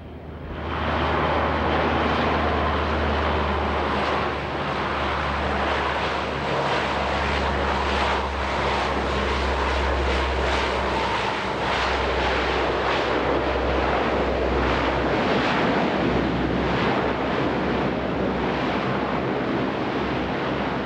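A C-130 Hercules turboprop lands and reverses its propellers to full aft for a short stop, giving a loud, sustained roaring rush with a broad, steady wash of noise throughout.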